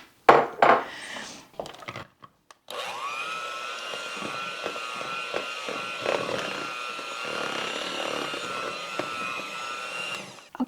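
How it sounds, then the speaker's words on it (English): Raspberry poke cake batter is mixed in a bowl. A few clinks and knocks come first, then a continuous, even whirring drone of beating runs to the end with small bumps against the bowl. "I'm going to mix this up until it becomes smooth, about 2 to 3 minutes."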